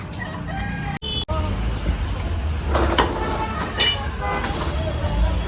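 Chickens at a roadside chicken shop cluck and call in short bursts, a rooster-like crow rising among them, with a vehicle horn and street noise around and people talking over it.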